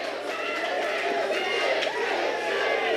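A wrestling arena crowd roars and cheers in a steady, loud wash during a Cedric Alexander versus Eddie Edwards match, with a commentator talking over it.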